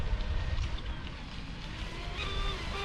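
A Proboat Recoil 26 RC boat with a Riverjet 4S motor runs on the water, a steady whirring buzz at a distance blended with wind and water wash.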